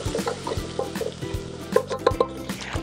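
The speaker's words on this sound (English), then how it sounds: "Give it a little stir." Ibex meat with ginger being stirred in a cooking pot: a few light scraping strokes and soft clinks against the pot over a low sizzle, close and fairly loud.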